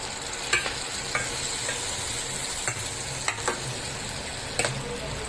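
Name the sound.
water poured into frying spice masala, sizzling and stirring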